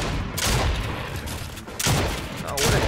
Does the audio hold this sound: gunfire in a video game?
yes